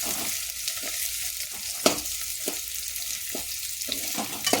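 Onions for chicken biryani frying over a full gas flame give a continuous loud sizzle, broken by regular spatula scrapes and stirs every second or so, with no voices.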